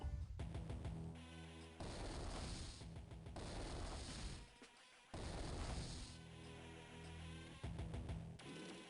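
Cannons fire in Advance Wars 2 with repeated booming shots that form a chain of loud, punchy blasts separated by short gaps.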